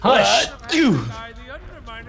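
A person sneezes loudly and close at the start, a sharp burst followed by a drawn-out exhale, with a short spoken word after it.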